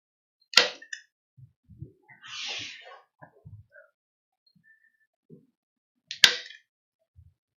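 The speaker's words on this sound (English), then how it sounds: "I'm just going to add a little staple here and a little staple there" A staple gun fires two sharp, loud snaps several seconds apart while stapling pre-primed canvas to a painting frame, with soft handling noises and rustling between the shots.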